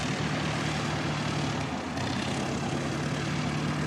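A Cessna propeller plane's engine runs at an airport, giving a constant droning hum with a low steady tone, fairly close and unbroken.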